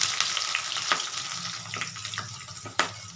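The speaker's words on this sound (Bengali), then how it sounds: "পেঁয়াজটা দিয়ে পেঁয়াজটা একটু ভাজা ভাজা করব, মানে একদম লাল করে ফেলবো না, হালকা ভাজবো" Sliced onions sizzle in hot oil with a bay leaf, mace, cumin and whole garam masala, a steady frying hiss broken by a few sharp spoon clicks and stirring scrapes.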